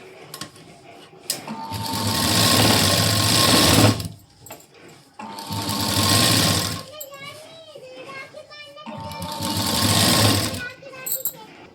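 A sewing machine stitches a blouse neckline understitch in three bursts of rapid whirring, each a few seconds long, with pauses between them and someone speaking over the stitching.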